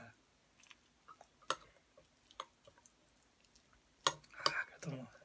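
Food being chewed while eating, with soft irregular crunches and smacks close to the mic. A few louder bites come near the end, and the background is otherwise quiet.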